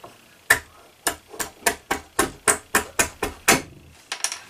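A pocket knife is knocked repeatedly through tough red oak while trimming wood during an axe restoration, giving about a dozen sharp, evenly spaced taps, close and distinct, with no talking.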